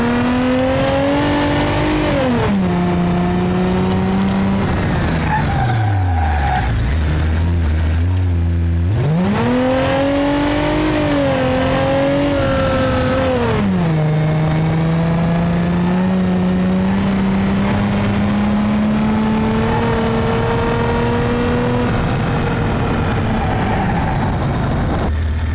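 SC3200 car with a 2.2 liter V6 engine in BeamNG.drive, revving and accelerating through several gear changes, pitch climbing and dropping, a loud continuous engine note with no talk.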